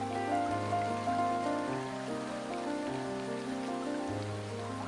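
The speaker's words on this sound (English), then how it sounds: "And it's raining." Steady rain falling in the video game The Forest of Drizzling Rain, a soft continuous patter under layered background music with no talking.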